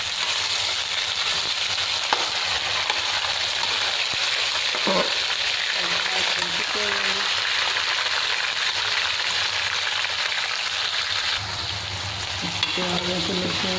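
Onions fry in a pan for chicken, giving a loud, unbroken sizzle and crackle close up, with occasional soft stirring knocks and no speech.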